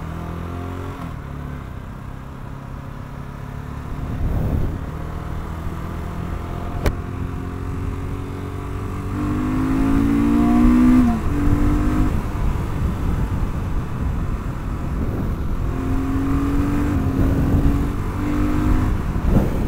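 BSA Goldstar motorcycle ridden on country roads, single engine revving up through the gears with rising and falling pitch, loud and close with wind rush, getting more vibey at higher revs.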